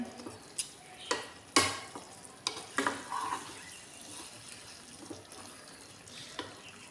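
Shukto curry with bitter gourd being stirred in a pan, with irregular scraping strokes and spoon knocks over a soft, steady sizzle, close and moderately loud.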